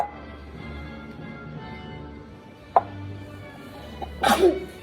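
One sharp sneeze bursts out near the end over quiet kitchen background, preceded by a faint short sound a moment earlier.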